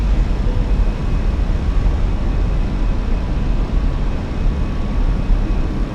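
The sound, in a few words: Fenix A319 airliner climbing after takeoff, flight simulator game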